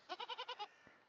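A sheep in the video game Reka gives one quick, wavering bleat of about six rapid pulses, close and clear against a quiet background, followed by a faint soft thump.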